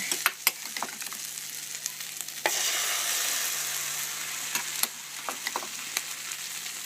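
A spoonful of ground turkey omelette mixture hits a hot pan and sizzles, a steady hiss swelling after a few sharp clicks and taps of the spoon, with more ticks afterward.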